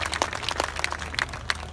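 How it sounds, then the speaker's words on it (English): Scattered, uneven clapping from an outdoor crowd at a medieval festival street performance, individual claps audible at irregular moments rather than a dense roar. "Clap now."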